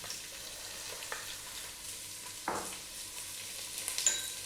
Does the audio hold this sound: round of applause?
no